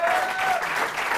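Brief burst of audience applause at a French New Year's Eve interview show, steady clapping from a crowd heard for just over a second.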